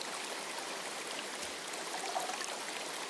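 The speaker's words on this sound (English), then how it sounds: "Sounds like an open space. Could be a natural spring of some kind." Natural spring water flowing on an island in a video game, a steady, soft broadband rush like a running stream, even and uninterrupted with no voices.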